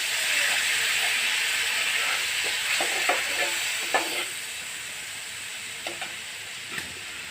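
Spice masala with Kashmiri chilli powder and a splash of water sizzles steadily in a pan, a faint continuous hiss broken by a few small clicks and spoon taps.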